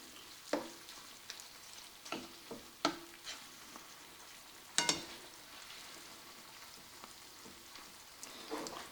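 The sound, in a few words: ground beef with garlic browning and sizzling in a pan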